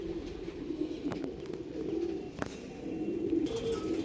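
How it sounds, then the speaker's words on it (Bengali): Low, soft cooing of Kalanka pigeons repeating throughout, with a few faint chirps and clicks in the background. "দেখুন দুটো পায়রা"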